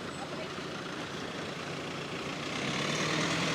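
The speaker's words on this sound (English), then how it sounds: "There's a lot of traffic" A dense wash of street traffic in Prague's old town, with a heavy truck or bus engine rumbling close by and growing slightly louder toward the end, with no talk over it.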